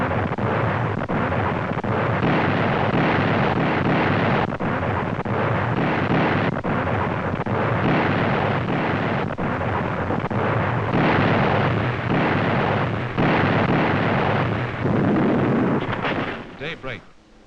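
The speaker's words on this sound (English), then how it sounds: "the Navy's big guns open fire" Navy big guns open fire before dawn on a Japanese base on New Georgia Island in a WWII film: a dense, continuous rumble of booming blasts under a narrator's voice.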